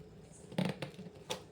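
Fried raw banana pieces being pressed flat on a plate for banana chaat, giving a few soft, faint pressing and crunching sounds, quiet and close.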